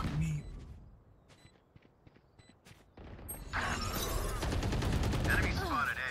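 Gunfire crackles in a first-person shooter match during a round with smoke and a planted spike: sparse clicks and single shots at first, then a dense, sustained volley of rapid shots filling the second half, fairly loud and close.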